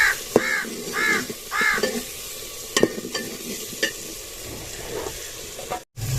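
Masala with chilies and coriander is stirred in a frying pan: a loud, close sizzle with repeated scraping strokes, while a crow caws several times in the background near the start.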